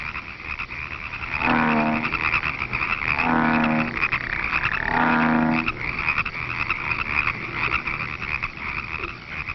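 Toads and frogs croak together at a pond in spring, three long trilling swells rising over a steady chorus of calls, loud and continuous with no talk.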